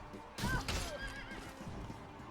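A horse neighs once, a short bright whinny, in the medieval combat game Mount and Blade: Warband during a lance tournament, with clatter and the thud of hooves around it at moderate loudness.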